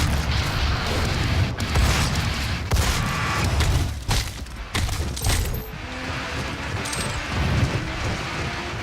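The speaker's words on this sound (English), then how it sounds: "Like that fireball right there, that struck me as the traditional Doom fireball. Like Imp fireball." An Imp fireball in Doom (2016) on PC lands amid dense combat: a continuous roar of booming explosions and bursts with sharp impacts, loud and close, and no speech.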